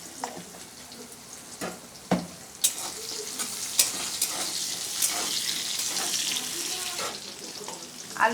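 Potatoes frying in a pan after a pinch of salt, for a curry with prawns and elephant foot yam: steady soft sizzle broken by sharp spatula scrapes and clacks against the pan, no voices.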